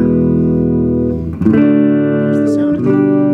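An amplified electric guitar rings out with sustained chords that shift in pitch twice, full and loud, with no talking.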